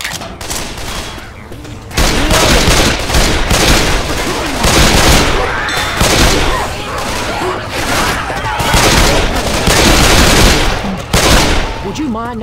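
Heavy gunfire during a Left 4 Dead 2 playthrough on the Dark Carnival campaign, loud rapid bursts and overlapping shots nearly nonstop, with voices shouting through the shooting.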